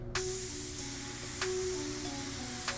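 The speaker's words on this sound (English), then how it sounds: "You know, I can't go down and spray all the way up into the front of the vehicle." A spray gun applies clear coat to a car hood: a faint, steady hiss runs throughout, broken by three brief louder bursts, with no talking.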